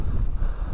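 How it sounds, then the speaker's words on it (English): Strong blizzard wind buffets the microphone out on the ice during an ice-fishing trip, a loud, gusty roar with low rumbling throughout. "It's a blizzard."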